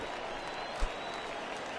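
A baseball stadium crowd in MLB The Show 18 on PS4 claps in steady applause, a broad even wash of clapping with a single low thump partway through.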